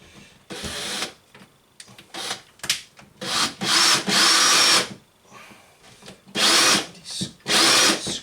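A power drill drives screws into the wooden frame of a scratch-built arcade cabinet, repeated whirring bursts of a few seconds each with short pauses between, close and fairly loud.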